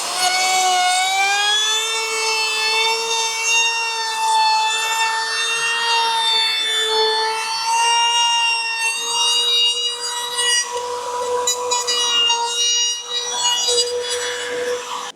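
A loud, sustained high-pitched whine of a spinning cutter runs nearly continuously, wavering slightly in pitch as it works along the wood, with no speech.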